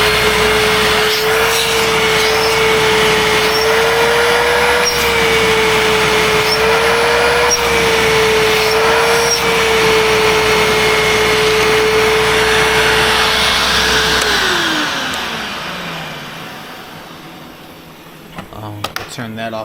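An old, used Hoover WindTunnel self-propelled upright vacuum cleaner runs with a loud, steady motor whine and airflow roar, then winds down as it is switched off near the end.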